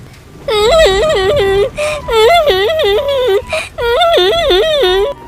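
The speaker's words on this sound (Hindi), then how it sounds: "तभी उसे जंगल से किसी बच्चे की रोने की आवाज़ सुनाई देती है।" A child cries in repeated wavering, whimpering sobs, close and loud, in three long bursts separated by brief gasping breaths.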